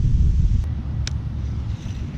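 Strong wind buffets the microphone in a low, steady rumble outdoors on a boat on a sunny fishing day, with a couple of faint brief clicks.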